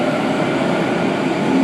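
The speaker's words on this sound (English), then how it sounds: "A67's departing, A25 arriving on platform" A Sydney train pulls into a platform at Circular Quay station with a loud, steady broadband rumble and rushing roar filling the whole stretch, with no voices.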